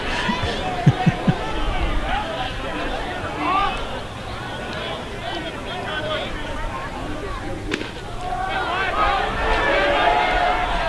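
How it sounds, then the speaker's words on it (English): A baseball crowd in Victoria jeers the umpire after a pitch, a loose swell of voices and shouts that rises and falls while a commentator keeps talking over it. "Crowd giving it to the ump."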